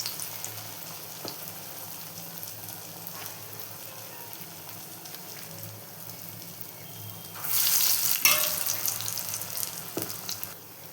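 Urad dal ginger vadas frying in hot oil over a medium flame give a steady low sizzle, with a louder bubbling burst of frying around the middle of the stretch, and no talking.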